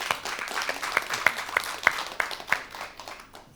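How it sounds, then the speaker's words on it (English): Audience at a conference applauding, a brief burst of steady clapping from many hands that fades out toward the end. "round of applause for Tom again."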